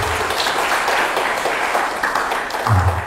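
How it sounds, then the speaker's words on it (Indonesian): Audience at a talk show on self-transformation and online business gives a round of applause, a steady, fairly loud wash of clapping for about three seconds, with a faint voice near the end. "kalau setuju tepuk tangan untuk kita semua"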